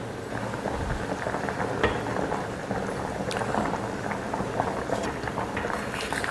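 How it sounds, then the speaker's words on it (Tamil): Basmati rice boils in a pot of water with a continuous dense bubbling and popping, close and even throughout with no talk. "அரிசி போட்டாச்சு. ஒரு 3 நிமிஷத்துக்கு இது வேகட்டும், அதுக்கப்புறமா இறக்கிக்கலாம்."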